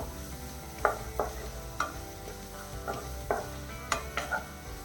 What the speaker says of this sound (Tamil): இன்னும் கொஞ்சம் நல்லா வதக்கி விட்டுருவோம்